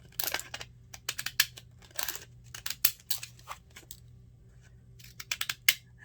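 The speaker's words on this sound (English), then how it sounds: "Get my deckle edge scissors. And cut that in half." Deckle edge scissors snip through paper in a series of short, crisp cuts, irregular in rhythm, close and fairly quiet with pauses between clusters.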